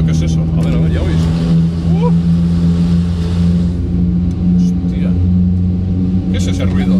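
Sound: diesel van engine with Euro 5 motor running

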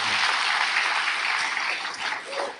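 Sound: applause, hand clapping

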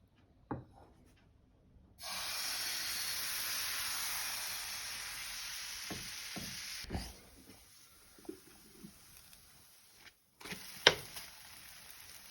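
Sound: crepes frying in a pan

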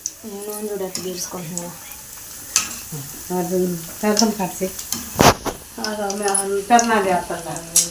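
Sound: bread pieces frying in hot oil for bread halwa

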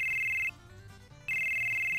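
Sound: phone ringing in Final Fantasy 7 video game

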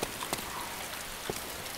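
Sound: rain in video game DayZ

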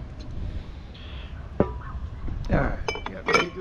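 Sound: glass being taken off a small metal mower

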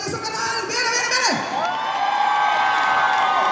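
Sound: audience applause and cheering

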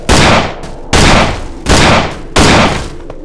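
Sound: weapon firing in the video game Cry of Fear

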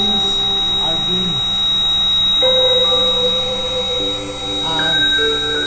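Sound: buzzer on a smart high-visibility warning vest

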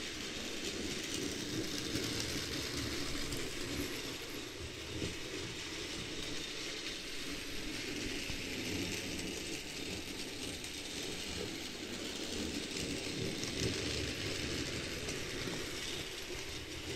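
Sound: cheap toy model train running with gear-like drive mechanism

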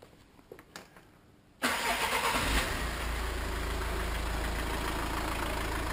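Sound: car engine starting up and idling

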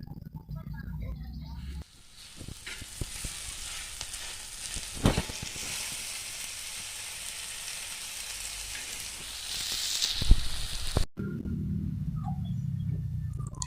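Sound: sautéing onion, chilli, garlic and tomato

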